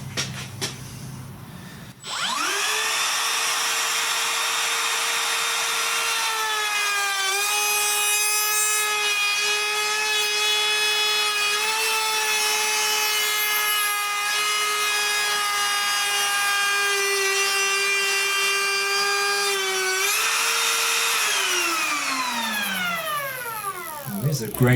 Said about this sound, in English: I'm going to cut the bevel slightly deeper just to make it easier to ensure that I'm getting all that burn off.